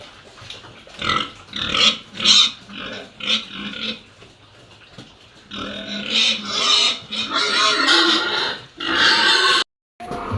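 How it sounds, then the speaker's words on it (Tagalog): Pigs feeding at their troughs, grunting and oinking in repeated loud bursts with chewing and jostling noises between, close by and without talk. "pinakain po yung baboy. Ayan po't nakain na sila."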